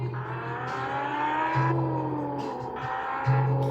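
Car engine in the mobile driving game Car Parking Multiplayer, version 4.7.8, a steady synthetic hum with a low droning tone that rises briefly in pitch twice, as if revving, running alone throughout.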